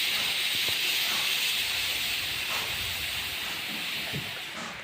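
Milk tea bubbles and boils in a pan, a loud, steady hiss of steam and rolling bubbles close by that fades slightly toward the end.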